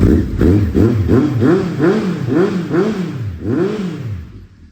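A 2006 Honda CB1300 motorcycle engine revs repeatedly in a steady series of rising-and-falling throttle blips, close and loud, then fades away at the end.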